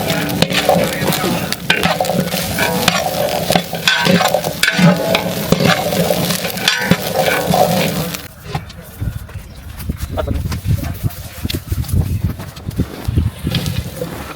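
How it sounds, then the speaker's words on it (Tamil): Garlic frying slowly over a low flame, with steady sizzle and stirring scrapes that soften and thin out toward the end. "நல்லா ஸ்லோ ஃப்ளேமில் இந்த பூண்டை நல்லா வறுத்து எடுத்துக்கோங்க."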